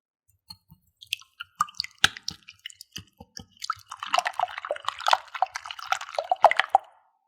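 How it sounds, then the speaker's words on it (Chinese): Three eggs whisked by hand with fine sugar and a pinch of salt in a bowl for an apple cake batter, first as scattered separate taps and clicks, then a dense, continuous wet whisking that stops abruptly. "再加入10克细砂糖、1克盐，把它们搅拌均匀"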